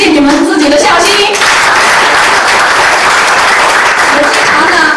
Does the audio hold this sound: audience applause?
yes